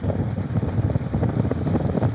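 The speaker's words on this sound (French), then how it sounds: "t'as vu la force du vent qui monte, on est en plein dans le couloir" Strong wind on the Changtang plateau roars and buffets the microphone in a continuous low rumble, loud and close, with no voices.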